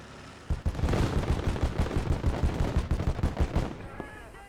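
Rapid automatic gunfire rattles on in a dense, steady stream during a Call To Arms: Gates Of Hell battle, with loud close bursts and a brief pause before the firing tails off.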